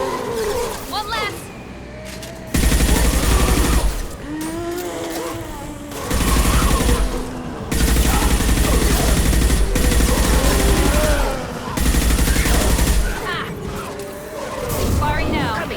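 Mass Effect Legendary Edition gunfire in several loud bursts of rapid automatic shots, each lasting one to three seconds. Voices talk in the gaps and under the shooting.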